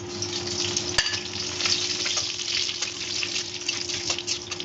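Dried red chillies split open and fennel seeds frying in hot ghee, a dense close sizzle running steadily throughout with a brief sharp crackle near the start.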